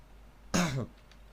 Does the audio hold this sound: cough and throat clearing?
yes